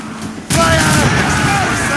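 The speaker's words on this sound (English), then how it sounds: "Cannon ready!" Ship cannons in Assassin's Creed Rogue open fire in a sudden loud naval volley that bursts in after a short quiet lead-in and keeps roaring densely under shouted voices.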